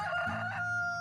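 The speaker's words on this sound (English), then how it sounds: "Somewhere off in the distance a rooster crows, but not too far off, because it's still loud enough to have woken you up" A rooster crows in the video game Camp W, one loud drawn-out call sounding close and clear with no talking over it.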